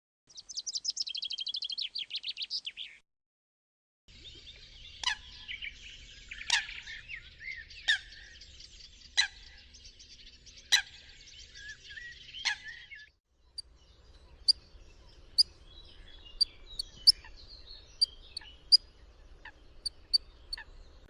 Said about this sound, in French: Le pinson des arbres.